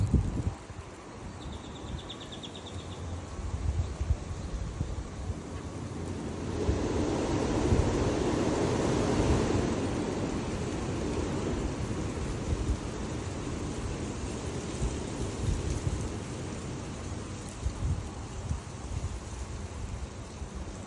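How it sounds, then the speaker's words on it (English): Strong gusts swish through a bald cypress tree outside a porch in Frisco, Texas, making a continuous rushing roar like a waterfall or white noise that swells midway and stays loud, with no talking. "let's see if I can hear my bald cypress swish"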